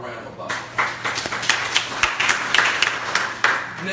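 Scattered audience clapping builds into uneven applause at a financial education talk, individual claps standing out over a low background hum, with voices murmuring underneath.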